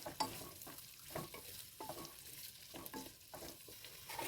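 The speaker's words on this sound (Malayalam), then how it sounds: "ചെറുതാക്കി അരിഞ്ഞത് ഇതേ എണ്ണയിലേക്ക് ഇട്ട് കൊടുക്കുക. നന്നായി ഒന്ന് ഇളക്കി കൊടുക്കുക." Chopped onions are stirred through oil in a pan for a prawn biryani, with quiet, irregular scraping strokes over a low, soft sizzle at close range.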